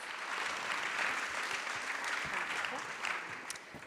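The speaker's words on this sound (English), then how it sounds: "Let's applaud." An audience at a panel on aging and longevity claps together, a soft continuous patter of applause that tapers slightly at the close, with a voice speaking faintly underneath.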